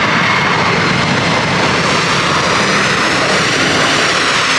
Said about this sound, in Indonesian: Wah, yang ini pesawat terbang kargo.